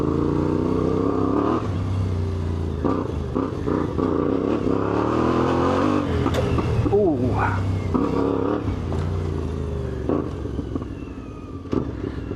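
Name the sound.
CFMOTO 450MT IBEX motorcycle engine at low throttle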